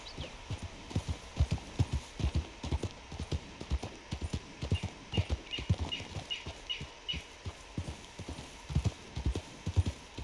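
Horse hooves clip-clop in Red Dead Redemption 2 with a rider on the horse's back, a steady, fairly close walking rhythm of distinct hoof strikes going on throughout.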